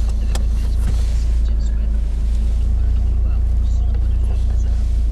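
A Porsche 968 CS on the road on a sunny day, heard from inside the cabin as a steady, loud low engine drone with constant road rumble that holds evenly throughout.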